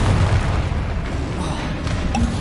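A dense, sustained magical blast from the Bombarda or Confringo explosion spell in Hogwarts Legacy, a loud booming roar that fills the whole moment with rumbling low end and no clear break.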